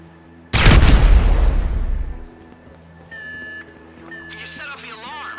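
A loud, sudden explosion in the video game Grand Theft Auto V bursts out and rumbles away over a couple of seconds, followed by electronic beeps and chirps against a steady low hum.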